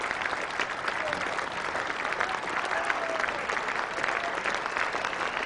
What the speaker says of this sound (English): Great applause all round the ground for him